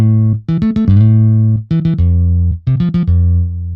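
A layered FL Studio synth bass with its high end EQ'd away plays a short riff of low, bouncing notes in grouped bursts, loud and clean with no other sound.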